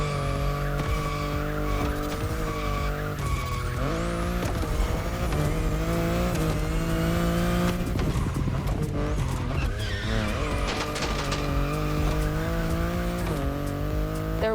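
BMW i8 hybrid sports car driven in The Crew Motorfest, a steady engine drone with tire squeal and skidding through corners, loud and continuous with no talk.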